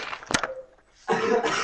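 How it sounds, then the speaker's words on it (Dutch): A man gives a short, sharp cough, followed by a faint trailing tone and then a burst of rough, noisy throat sound, all within under two seconds. "Hoesten."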